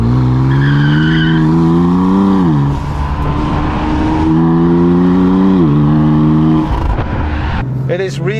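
A BMW M4 (F82) engine revs hard through several rising gears, a loud throaty tone climbing and dropping between shifts, ending with tire squeal.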